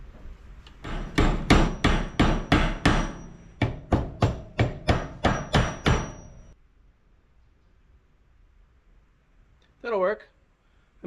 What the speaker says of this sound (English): Put our metal brake back together. We'll give it a good whacking right there.